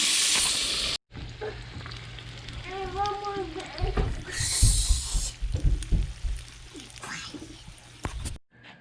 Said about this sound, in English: we're going to let them fry up for just a minute